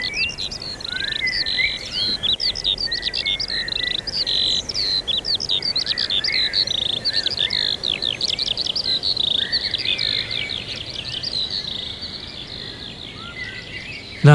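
A skylark sings a dense, continuous run of rapid, high, sliding chirps and trills over a steady hiss of background noise, lasting throughout with little pause.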